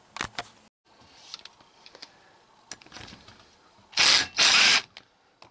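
A power tool with a half-inch socket spins off the head bolts of an overheated engine with a dropped valve, heard as two loud, close buzzing bursts near the end after scattered clicks and metallic handling.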